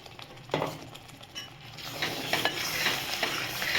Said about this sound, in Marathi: आता याच्यामध्ये टाकायचं आपल्याला पालक प्युरी आणि कांदा टोमॅटो सगळं मिक्सचर